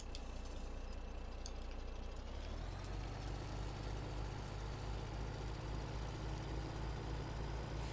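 A heavy Western Star truck engine in Farming Simulator 17 rumbles steadily at idle, with a hiss like air brakes at the start before the engine note settles lower and louder.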